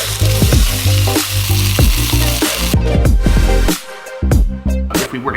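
A pork loin roulade, cooked sous vide, sears in a sauté pan with a loud, steady close-up sizzle that briefly drops out near the end before crackling back.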